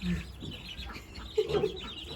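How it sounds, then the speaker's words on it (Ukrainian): A hen that hatched ducklings clucks on an American farm, giving a few short close clucks, with one early and a quick cluster later, alone without talk. "Оця курка, вона висиділа оцих каченяток маленьких."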